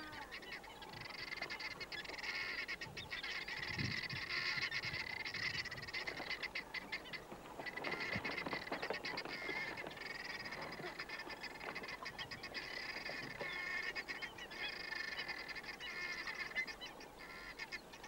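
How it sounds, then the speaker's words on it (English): Large flock of birds at an Etosha waterhole, hundreds gathered together, giving a steady, dense chorus of honking and calling that carries on without a break throughout. "there are hundreds of birds waiting to cross"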